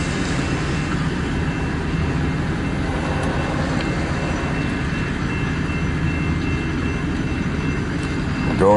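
Slow freight train rolling through a rail diamond in Fremont, Nebraska in freezing weather, a steady low rumble of cars and wheels that holds at an even level throughout, with no voices.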